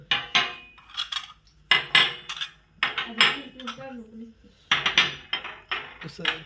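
Glass dishes knock and clink together in a home during a birthday celebration, sounding as a run of sharp, close clatters in clusters with short pauses, and a voice is briefly heard partway through.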